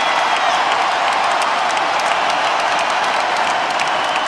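A basketball arena crowd at a Portland Trail Blazers playoff game against the Mavericks cheers and applauds steadily, a loud, dense, continuous roar of clapping and voices with no breaks.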